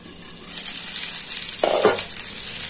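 Tilapia fish frying in oil in a pan, a steady close hiss of sizzling with a brief louder crackle midway.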